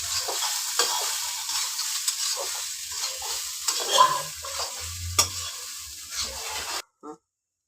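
A spoon scrapes and stirs cumin rice in a hot pan, steady sizzling and clinking for several seconds before it stops abruptly.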